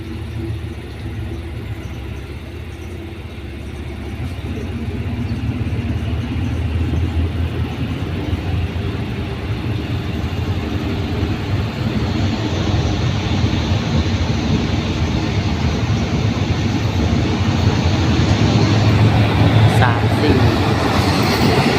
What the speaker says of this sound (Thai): มาแล้วฮะขบวน417